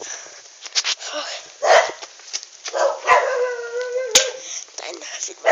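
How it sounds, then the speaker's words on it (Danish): Strange dog barking and yelping at night, a series of irregular nearby barks with a drawn-out howling whine, mixed in with voices. "Der er en vild mærkelig hund, der altid gør os."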